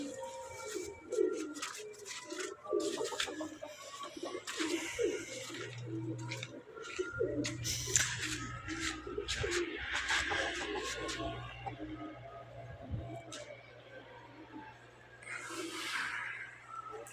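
Pigeons coo repeatedly at close range in a loft, with soft low rolling calls recurring throughout alongside scattered bird chirps, wing flutters and light ticking noises.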